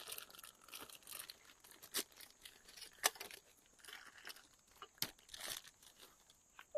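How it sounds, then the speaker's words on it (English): 3M adhesive tape is peeled off the backs of pieces from a Volvo XC black-out front grille kit, giving quiet crinkling and tearing rips with a few sharp snaps at irregular moments, close up. "give me a minute here to get all this tape off"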